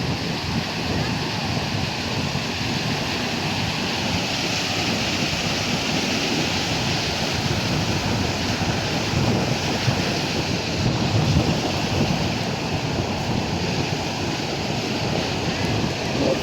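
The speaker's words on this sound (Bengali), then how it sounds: "এই যে ঢেউ দেখুন ঢেউ কত সুন্দর করে কাছে এসে পড়ে আবার দূরে যায়" Sea waves roll onto the beach at Cox's Bazar in the morning, a steady, full surf roar with wind buffeting the microphone throughout.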